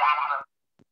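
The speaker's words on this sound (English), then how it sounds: "Sorry, that was my alarm." A phone alarm with a duck-like honking tone sounds once, a loud buzzy quack lasting under half a second, then silence with a faint click.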